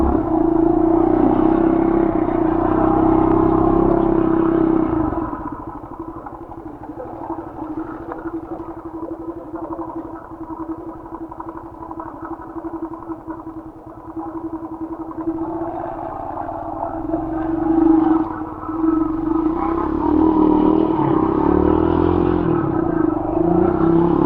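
A motorcycle climbs a steep uphill road in second gear during the rainy monsoon season, its engine droning steadily and close, with the strain easing midway before rising again.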